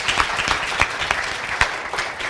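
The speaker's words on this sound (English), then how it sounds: "Give him a round of applause" Audience applause after a stage hypnosis demonstration, a steady wash of many hands clapping at close range for a couple of seconds with no voices over it.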